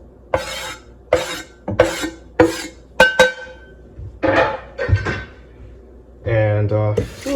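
Sliced potatoes dumped into a bowl of water in a kitchen, giving a series of sharp, close clattering thumps and splashes spaced about a second apart, followed by brief talking.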